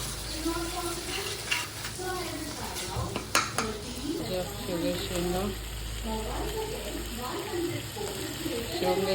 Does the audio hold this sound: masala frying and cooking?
yes